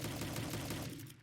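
A small SMG fires a fast, dense burst in a homemade first-person shooter game with a recoil animation. The rattle runs steadily for about a second and then cuts off.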